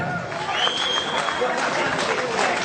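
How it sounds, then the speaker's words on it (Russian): Spectators clapping and cheering at a Kyrgyz bare-knuckle fight, a busy crowd noise heard under an excited voice talking over it. "Аплодисменты."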